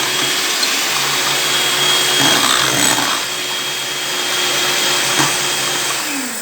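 An electric beater whisks eggs for a basic cake sponge, a steady, loud motor whir running without pause, with slight swells in pitch as the beaters move through the batter.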